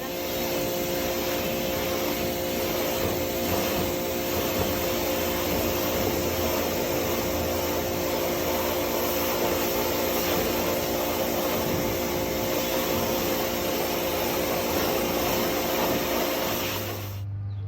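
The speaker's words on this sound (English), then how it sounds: "that's enough pressure washing for that" A pressure washer blasts a garden lattice in a steady, loud, continuous roar with a droning motor hum underneath, running unbroken for most of the stretch before cutting off near the end.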